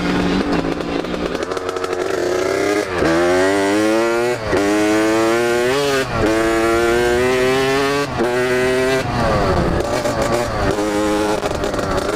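A motorcycle being ridden hard, its engine revving up through repeated rising accelerations and gear shifts, loud and close throughout with no talking over it.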